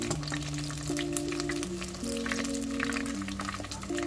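Minced pork rolls wrapped in bean curd skin deep-fry in hot oil, a dense, steady crackling sizzle heard up close and uninterrupted, with faint tonal background music.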